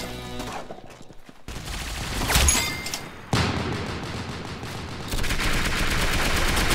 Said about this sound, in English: I did not want to use the laser.